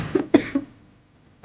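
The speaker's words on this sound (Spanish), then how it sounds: "¿Cómo está la tosecita," A few short, sharp coughs from one person, close and fairly loud, in a tight burst with a brief pause, then a final cough at the end.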